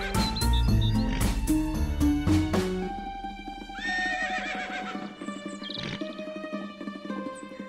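A donkey carrying a rider, with loud braying and whinnying calls over musical backing, followed by steady hoof clip-clops and further calls.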